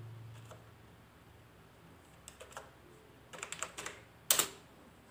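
Typing on a computer keyboard while entering lesson headers in a document, sparse soft key taps at first that build into a short quicker burst and one sharper clack near the end, with no voice.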